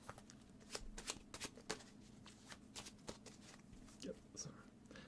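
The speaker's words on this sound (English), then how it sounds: "Get some shuffles" Playing cards shuffled and cut during a live magic stream, a series of quick riffling and snapping bursts at close range, with faint background noise between them.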